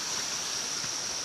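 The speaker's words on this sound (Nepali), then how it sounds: "हामी यहाँ ठुलो खोलामा आइयो ठुलो खोलामा" A big river stream in a forested Nepali valley, heard as a steady, broadband rush of flowing water that holds even and fairly close throughout, with no voices over it.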